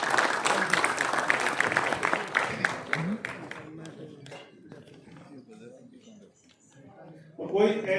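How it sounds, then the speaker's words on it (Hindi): A crowd bursts into loud, rapid applause for a performer at a public gathering, the clapping fading out after a few seconds, followed by quieter murmuring and a voice speaking. "एक बार गजराज जी के लिए जोरदार तालियां बजाओ।"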